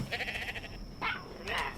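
A sheep in the video game Ark Survival Ascended bleats several times in quick succession, short nasal cries close by over a faint background.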